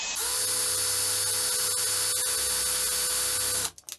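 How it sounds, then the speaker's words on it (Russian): A power drill drives a self-tapping screw in and then backs it out, a loud steady high whine running nearly four seconds before cutting off abruptly, followed by a few short bursts. "берем тот же самый саморез, такой же самый. Немножечко его закручиваем. И в обратную сторону прокручиваем."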